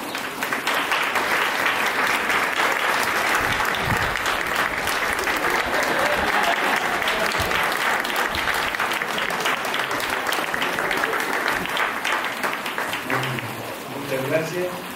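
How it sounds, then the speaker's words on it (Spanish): A wedding congregation gives a sustained round of applause in church for the bride being presented to family, steady dense clapping for most of the stretch, with voices emerging faintly as it thins near the end. "Y le vamos a dar un fuerte aplauso a María Inés."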